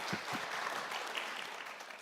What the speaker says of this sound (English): So please give them another big round of applause